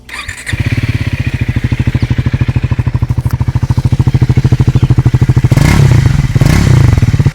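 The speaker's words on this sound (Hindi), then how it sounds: "इस बाइक का एग्जॉस्ट नोट" Triumph Scrambler 400 XC motorcycle engine idling and revving, a loud steady thumping exhaust pulse close by with a brief louder rev near the end, no voices.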